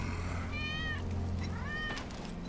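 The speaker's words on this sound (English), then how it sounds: "That's Wedge's cat" A cat in the video game Final Fantasy 7 Remake meows twice, each meow clear and fairly close over a low, steady game soundscape.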